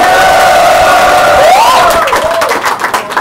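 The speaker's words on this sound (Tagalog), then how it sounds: "Aking pong hinihingi ang malakas na palakpakan at sigawan ng bahay natin!" A crowd at a rap battle in a bar roars with loud, sustained cheering, whoops and applause that swell, then break into scattered clapping and shouts.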